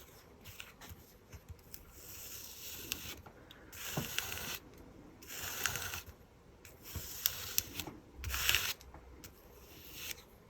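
A scraper drags spackle across a paper card, repeated close rasping strokes of varying length, mostly alone and quiet in a small room.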